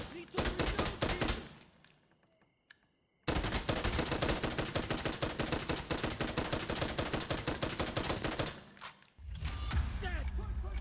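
Loud, close automatic gunfire in Insurgency Sandstorm rattles in dense sustained bursts, breaking off for a short quiet reload pause before the rapid firing resumes.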